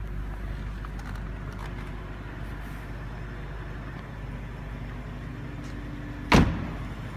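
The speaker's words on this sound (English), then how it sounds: "Nice solid doors in the car." A solid door thumps shut on a 2004 BMW 645Ci coupe with a 4.4-liter V8, one sharp close heard against a steady low rumble of background noise.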